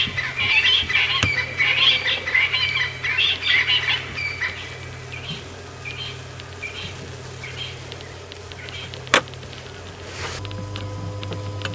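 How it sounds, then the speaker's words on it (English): Nightjar calling in the evening on a safari drive at Djuma Game Reserve, a high churring and chirping that carries over steady insect and night ambience, with other bird calls nearby and a brief sharp click near the end. "it's a nocturnal bird called a nightjar, and they often let off beautiful calls in the evenings."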